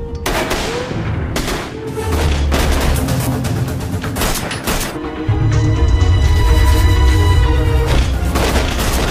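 Gunfire in a tense action film scene where a character is hit while a rescue helicopter is minutes away: loud, repeated blasts and booming shots with rumbling low end, coming in dense volleys over a sustained, swelling backdrop.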